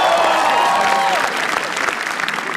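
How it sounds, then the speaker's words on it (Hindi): Audience applause at a comedy roast show, dense clapping and crowd noise throughout, with a voice briefly audible over it at the start. "श्रेया प्रेम रॉय के लिए तालियां प्लीज"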